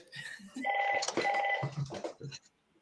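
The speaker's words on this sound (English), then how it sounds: "I don't think I've ever heard this home phone ring." A home landline telephone rings with a few trilling electronic bursts, fairly quiet and close, with faint voices around it before it fades out.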